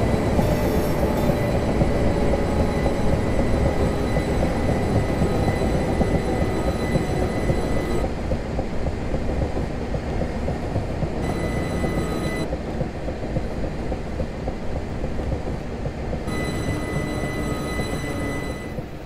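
Simulated passenger train in Train Simulator 2019 on the Littlehampton to Portsmouth route, a steady close rumble of wheels and motors with faint high whine, running continuously without speech.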